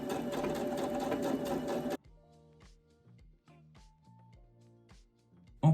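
A sewing machine stitches a dress sleeve during a garment alteration, running loud and continuous for about two seconds before stopping, followed by quieter scattered clicks and handling noises and a short loud knock at the end.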